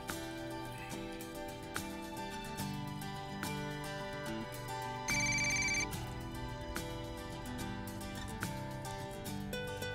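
A telephone rings in a drama scene with a repeating electronic ringtone melody in short bursts, clear and close with no voices.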